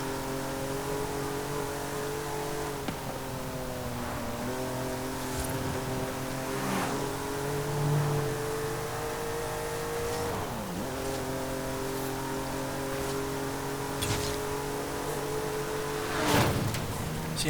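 A 1966 Jaguar XJ13 V12 engine in Forza Horizon 5 revs and climbs through the gears, its smooth, steady drone rising with repeated shift dips and occasional louder bursts, with no talking over it.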